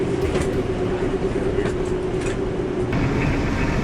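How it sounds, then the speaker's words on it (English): Airport terminal shuttle train carrying passengers to baggage claim, a steady loud rumble and hum of the moving car with a constant tone and brief rattles, no voices. "We eventually made it down to the train that took us to the baggage claim."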